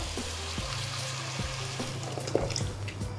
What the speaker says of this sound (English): Now we'll add the boiling water.